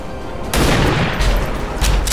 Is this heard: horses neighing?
no